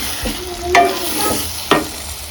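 Egg rice is stirred in a hot pan, and the sizzle is broken by two sharp spatula scrapes and knocks against the pan.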